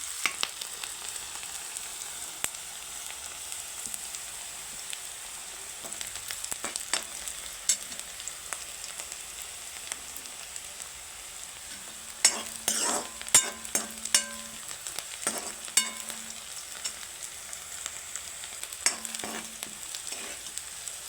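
Chopped onions sautéing in a pan while being stirred for a moong dal and cabbage bhaji, giving a soft, steady sizzle with a cluster of sharper scraping stirs partway through, close and fairly quiet, with no voices.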